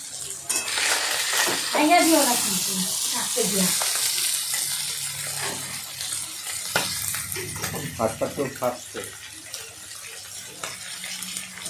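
Turmeric-coated fish fries in hot oil with a dense, close sizzle, broken by scraping and clinking from stirring in the pan. A voice is heard briefly over the cooking.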